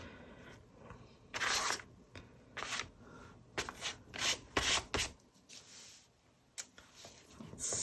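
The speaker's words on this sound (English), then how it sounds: "just scrape through this paint in places and get some of that gesso texture back" Paint is scraped back to reveal textured gesso beneath, producing close, scratchy bursts of scraping in irregular strokes separated by short quiet gaps.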